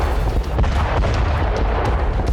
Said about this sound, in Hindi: उत्तर पूर्वी यूक्रेन में आसमान से अचानक ऐसे ही बॉम्बलेट्स की बरसात हुई और एक साथ कई धमाके